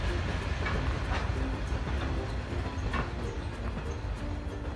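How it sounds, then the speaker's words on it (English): A freight train carrying steel rolls past with a steady rumbling roar and faint rhythmic clacks of wheels on rails, sustained at close range. "a freight train that just went past."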